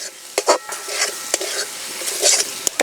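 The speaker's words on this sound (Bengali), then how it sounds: "উনুনের জাল কমিয়ে দিয়ে মশলা ভালো করে কষিয়ে নেব।" Spices sizzle in oil in a pan over a lowered flame for a fish curry, with a steady frying hiss broken by scraping stirs and brief clinks of the spoon against the pan.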